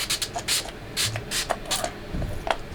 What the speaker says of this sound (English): It's the Photo Focus Natural Finish setting spray.